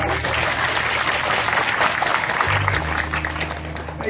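Applause from a village audience at a kirtan, a devotional song-and-sermon event, with dense steady clapping sustained throughout and a low droning tone that enters partway through.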